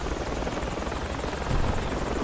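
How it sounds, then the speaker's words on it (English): A video-game helicopter hovers close by, its rotor wash a loud, dense, unbroken roar that fills the whole stretch. "Run to the chopper."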